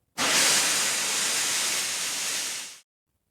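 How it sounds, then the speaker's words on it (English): A cartoon steam locomotive blows off steam in one loud, close, continuous hiss that starts abruptly, holds steady for over two seconds, then cuts off into silence. "Henry only blew steam at him"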